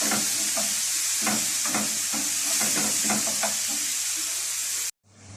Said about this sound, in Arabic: هسيبها كده بقى لحد الطماطم لما تتسبك معانا